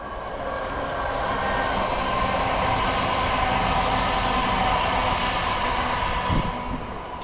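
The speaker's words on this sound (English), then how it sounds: "let's watch the train go by" A train passes by a riverside walking path, a steady broad rumble rising and fading over several seconds, fairly distant and even in level, with no talking.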